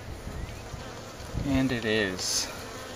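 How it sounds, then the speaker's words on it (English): Honey bees buzz steadily on a brood frame pulled from a hive, a dense droning hum throughout, with a person speaking briefly over it near the end. "It's a lot of bees on there."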